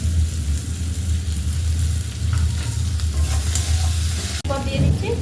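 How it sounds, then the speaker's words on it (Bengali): Ginger garlic paste hitting a hot pan of oil for a mutton and potato curry, a loud continuous sizzle and crackle with a low steady hum beneath, close by, ending in a brief clank, no talking. "দিচ্ছি আদা রসুনের পেস্ট"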